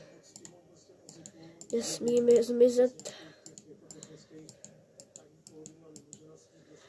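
Sharp, dry mouse clicks tick away steadily and close by while someone talks quietly underneath in Czech while playing Roblox, with a louder burst of speech partway through.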